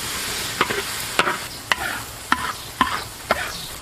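Minced garlic stir-fried in a wok of hot oil for topping a charcoal-baked giant conch, giving a steady crackling sizzle punctuated by about six sharp scrapes of a spatula at a regular rhythm, close and with no speech.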